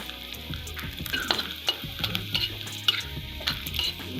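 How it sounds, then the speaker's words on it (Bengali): Onions frying in a pan until browned for an egg and potato dish, a steady sizzle broken by scraping stir strokes and light clinks of utensil on pan, close and continuous with no speech. "পেঁয়াজটা লাল করে ভেজে নিব।"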